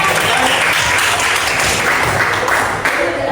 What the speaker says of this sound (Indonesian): kasih tepuk tangannya buat kelompok 4